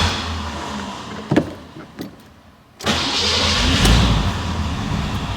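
A carbureted 1962 Austin-Healey engine cranks with a couple of short bursts, pauses, then catches and settles into a steady running rumble, close and fairly loud.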